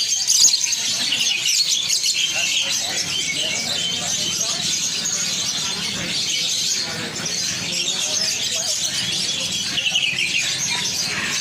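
Songbirds at an outdoor bird and animal market, including a prenjak lumut (olive-backed warbler), keep up dense, continuous high chirps and twitters, close and steady, under a busy background of crowd noise.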